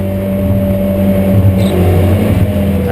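A BMW M3 GT4 race car circuits the Assen track, its engine holding a steady, loud, near onboard drone with a slight rise in pitch partway through.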